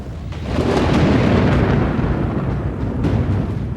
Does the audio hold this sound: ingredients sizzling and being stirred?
no